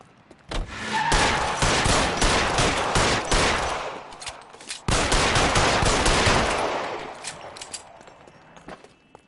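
Police shootout gunfire in the L.A. Noire video game: two long, loud volleys of rapid overlapping shots, each lasting several seconds and separated by a brief pause, then fading away.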